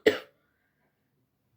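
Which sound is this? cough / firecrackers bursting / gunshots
cough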